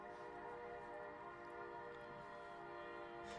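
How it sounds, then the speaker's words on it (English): A train passes outside a public works committee meeting room, its horn sounding as a long sustained multi-tone blast that holds steady throughout, muffled and moderately loud with no speech over it. "I'm going to give that train just a second."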